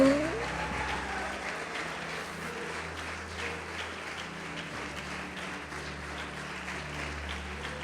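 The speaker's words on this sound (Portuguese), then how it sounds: "Quem querer pode aplaudir o Senhor e glorificar o Senhor." A church congregation applauds in a steady, dense wash of clapping, with a low sustained organ or keyboard tone beneath it throughout.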